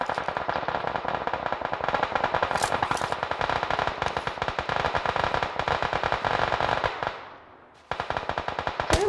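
Rapid automatic gunfire rattles through a tactical shooter match, long bursts of closely spaced shots with a brief pause before firing resumes, loud and with almost no talk.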